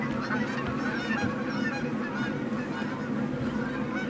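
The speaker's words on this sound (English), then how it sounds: "Where are those damn geese, man? They are annoying." Geese honking continuously in the video game Revontuli Coast, a dense, steady chorus of overlapping calls at even loudness throughout with no talk.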